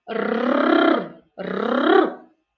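A voice imitates a tiger's growl with two drawn-out, rolling growls separated by a short pause. Each growl is close and fairly loud and fades at its end.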